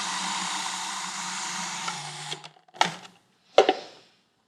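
An electric mixer whirs steadily while blending street food, then winds down and stops, followed by a few short clunks and knocks as the container is handled.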